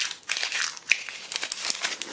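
Dry crackling of a 20 euro banknote being crumpled by hand, close and fairly loud, with a cluster of crinkles, a brief pause and then renewed bursts.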